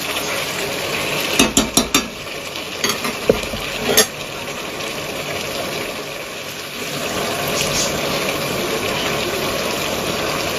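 Chicken and fried potatoes are stirred in a pan for a Bengali chicken kosha curry, with a cluster of spoon clinks and scrapes early on over a constant loud background hiss and no voices.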